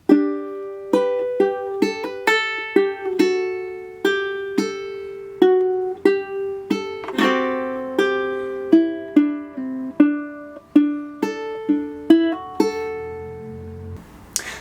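Single guitar notes are plucked slowly one after another, each ringing and fading, forming a gentle unhurried melodic phrase with no talking.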